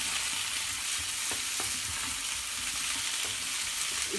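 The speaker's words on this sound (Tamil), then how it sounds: "இந்த டைமில் நம்ம பன்னீரையும் போட்டு வதக்கலாம்." Paneer cubes sauté in a kadai with ghee or oil and capsicum, a steady close sizzle with occasional stirring scrapes throughout.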